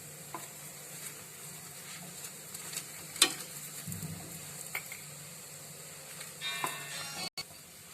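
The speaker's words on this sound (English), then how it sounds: "Now we'll flip it and add ghee on this side also." Reshmi paratha cooks in ghee on a hot pan, a soft steady sizzle with occasional light taps and a brief sharp clink, fairly quiet and without talk.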